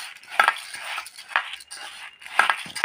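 A spoon stirs rice and ingredients for pulao in a metal pot, clinking and scraping against the sides in three distinct rounds, close and fairly loud, with no talking.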